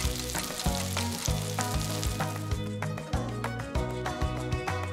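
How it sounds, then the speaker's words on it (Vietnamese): Shrimp wrapped in noodles deep-fry in a pan of oil, giving a steady, close sizzle that runs through the whole stretch beneath rhythmic backing music. "Thả cuộn tôm vào chảo ngập dầu. Chiên cho đến khi tôm vàng giòn."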